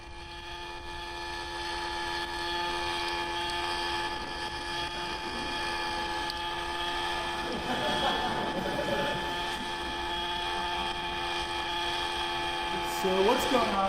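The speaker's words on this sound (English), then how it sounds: "This helicopter is perfectly stabilized." Small autonomous helicopter hovering under reinforcement learning control, a steady high-pitched rotor whine with layered engine tones that holds level and surges near the end, with a voice talking over it.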